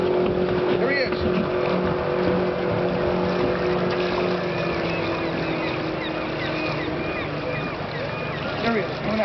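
An outboard motor drives a motorboat across open water, a steady droning engine with wind and water noise throughout, while people talk over it.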